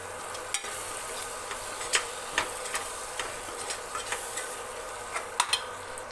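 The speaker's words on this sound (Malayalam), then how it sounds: "ഇനി അതിലേക്ക് നമുക്ക് തക്കാളി ഇട്ട് കൊടുക്കാം." Tomatoes tipped into spiced masala frying for a pressure-cooker chicken biryani, giving a steady close sizzle with scattered stirring clicks and scrapes of the spoon against the pan.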